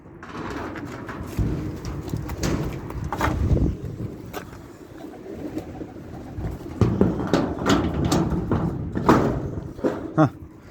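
Pigeons around their coop give soft, low cooing calls near at hand, mixed with wing flaps, thumps and light rustling over a low background.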